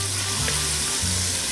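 Food browns and renders in a Creole pot seasoned with dried thyme for red beans and rice, a close, steady sizzle and crackle of frying fat with a faint stir, no talking.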